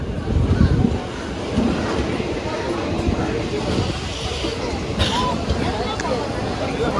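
Inside a crowded passenger train coach on the Arakkonam line, a constant loud rumble and rattle of the carriage runs under busy crowd chatter, with occasional metallic clanks.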